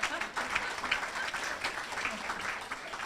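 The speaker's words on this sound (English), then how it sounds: "So she really needs a round of applause." A luncheon audience at a women's achievement event gives a warm round of applause, steady dense clapping that fills the room for several seconds with faint voices mixed in.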